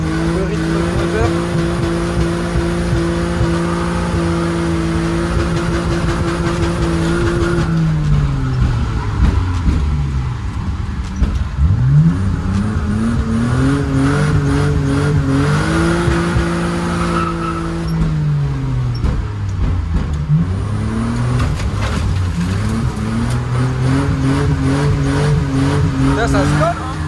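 Drift car engine revving and shifting on a circuit, the tone rising and dropping with clutch kicks, with tire squeal and skidding throughout, loud and continuous under people talking.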